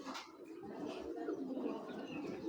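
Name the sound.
red-throated racing pigeon cooing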